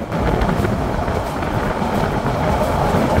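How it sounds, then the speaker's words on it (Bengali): The Chittagong Mail train runs through Sadar Rasulpur railway station without stopping, heard from on board as a loud, dense rumble with rattling carriage noise throughout. "এখন কিন্তু আমাদের ট্রেনটি থ্রুপাস করে যাচ্ছে সদর রসুলপুর রেলওয়ে স্টেশন"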